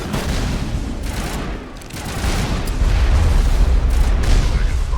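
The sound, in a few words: gunfire in the video game Mass Effect 1 Legendary Edition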